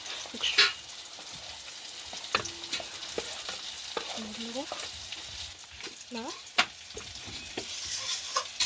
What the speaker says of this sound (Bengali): ভালো করে আমরা এটাকে জলে গুলিয়ে নিচ্ছি।